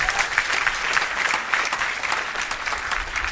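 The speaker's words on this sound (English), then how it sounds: "Give the King of Heaven a clap." A church congregation claps together during a worship service, producing loud, dense, continuous applause with a slightly rhythmic pulse throughout.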